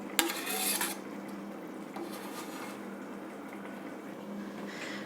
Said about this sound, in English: So I'm dropping all the pieces of Lokis which we have already cooked before.